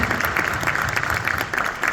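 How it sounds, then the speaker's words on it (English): An audience at a film premiere cast and crew Q&A applauds, steady dense clapping that holds at moderate level throughout, with no voices over it. "let's give them an applause"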